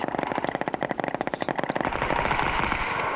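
A P90 submachine gun fires a rapid burst of evenly spaced shots in PUBG for about two seconds, loud and close. A dense noisy rumble follows once the firing stops.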